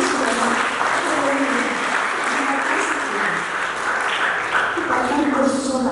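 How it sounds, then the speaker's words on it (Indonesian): Church congregation applauding for Jesus during a sermon, a steady dense wash of clapping that holds evenly throughout, with voices mixed into the noise. "Tepuk tangan bagi Yesus"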